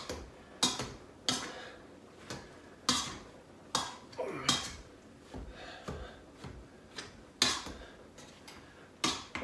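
Potatoes being mashed with butter in a pot, heard as steady, repeated thumps and clanks of the masher against the pot, nearby and fairly regular in rhythm, with no talking.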